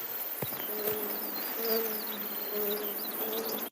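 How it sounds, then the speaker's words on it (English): Bees buzz as a looped game-engine sound effect, a thin, steady drone with faint chirping accents that stays at moderate level throughout and then cuts off abruptly. "We can still hear the bees."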